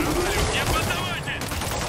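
Gunfire in Marvel's Spider-Man Remastered at a rooftop checkpoint under attack, a dense continuous burst of shots and combat noise mixed with game sounds and voices.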